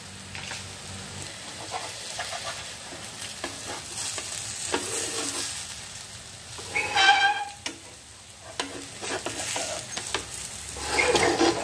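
Pumpkin paratha cooks on a pan over a low flame, with a soft steady sizzle, occasional stirring or scraping touches and a brighter crackle near the middle and end, no voices.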